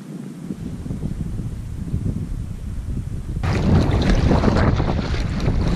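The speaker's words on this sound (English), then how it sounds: "Wind's picked up a bit here too" Wind blows across an open wilderness pan in Newfoundland, a steady, rough roar buffeting the microphone that grows noticeably stronger and louder partway through.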